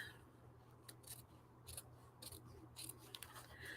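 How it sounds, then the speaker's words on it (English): Large scissors trimming paper into a long straight edge for a junk journal, a quiet run of crisp snipping cuts in an irregular rhythm, close and alone over a faint low hum. "I need the bigger scissors just to do a nice straight long edge"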